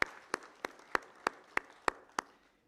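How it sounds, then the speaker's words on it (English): Applause for awardees at a construction industry council ceremony, heard as eight crisp, evenly spaced claps in a steady rhythm, fairly close and clear in a reverberant room, with no talking over them. "I will request everyone to please give a big round of applause"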